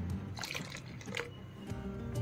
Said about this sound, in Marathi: ती 6 वाटी मी आता ह्याच्यात पाणी टाकलेलं आहे